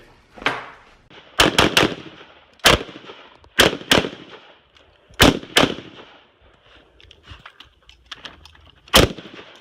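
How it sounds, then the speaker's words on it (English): Maxim 50 rifle firing loud, sharp gunshots at an outdoor range, a series of separate cracks with short echoing tails spread irregularly over several seconds. "I put it on safe and it just fired."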